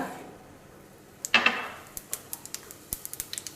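Mustard seeds splutter and pop in a pan of hot coconut oil, with a brief hiss followed by a string of small, sharp crackling pops scattered irregularly, close and fairly quiet.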